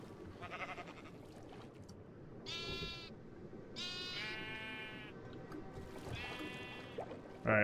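Sheep in the Minecraft video game bleat several times in short wavering calls, one after another, heard over a soft background murmur.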